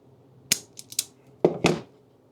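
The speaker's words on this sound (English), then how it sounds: "So let's trim a little bit off." A red positive power wire is cut from a spool with a few sharp clipping snips, two light clicks followed by two louder crunching cuts, close by and alone with no talking.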